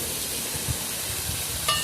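Mango chutney with sugar, salt and turmeric being stirred in a wok, a steady close sizzle with soft scraping strokes and a brief louder clink near the end, no talk.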